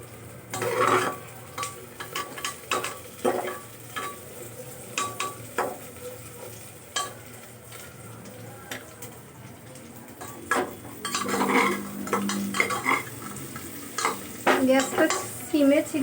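Onions fry in a pan on a low gas flame, with a soft background sizzle broken by repeated scraping and clinking strokes of a spoon or spatula stirring them, growing busier and louder toward the end.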